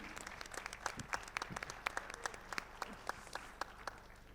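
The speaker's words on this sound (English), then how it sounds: "Why don't we give her an applause?" A forum audience at an ethnosport panel applauds for a birthday, with many hands clapping at moderate distance in a lively, continuous patter with a few sharper claps standing out.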